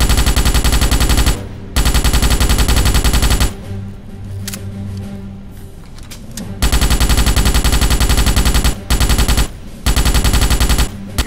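Loud sustained machine-gun bursts from the Starship Troopers game on a training range, long continuous volleys broken by short pauses, with a quieter stretch of scattered shots and clatter in the middle.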